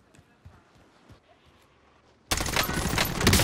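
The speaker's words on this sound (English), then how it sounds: "Small caliber rounds here." Small-caliber gunfire in a battle-royale shooter game, starting as faint scattered shots and then turning into a loud, dense burst of rapid fire over the last second.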